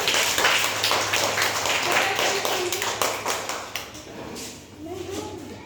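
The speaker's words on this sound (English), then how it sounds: "Clap for Ayush Pandey." Children in a school classroom clap in a quick burst of applause close by, the claps fading out after a few seconds while voices talk over and after them.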